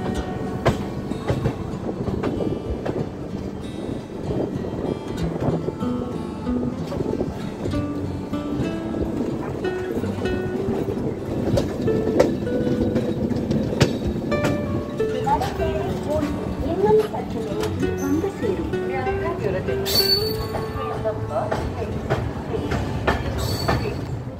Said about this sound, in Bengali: ট্রেন কাটপাটি স্টেশন ঢুকছে।